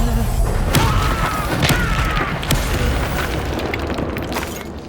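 Depulso force spell blasting in the Hogwarts Legacy video game: a string of loud booming thuds and crashing impacts, with sharp hits near the start and middle over a continuous roaring rumble that slowly fades.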